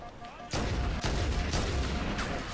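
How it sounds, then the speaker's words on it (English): Explosions in Halo: Combat Evolved Anniversary: a quiet lead-in, then sharp loud blasts at about half a second and one second, followed by more rumbling detonations and crackling debris that keep the din going. "That was a lot of explosions there."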